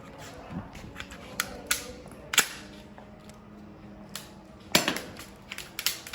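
Several sharp snapping pops from a ZM toy pistol at irregular intervals, each a short crack over quiet background.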